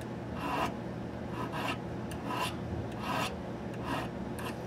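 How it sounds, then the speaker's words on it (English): Swiss needle files rasp against metal on a Lyman Great Plains muzzleloading rifle kit, short rhythmic back-and-forth strokes repeating steadily, close and fairly quiet with no talk. "Now, I'm using my Swiss needle files here."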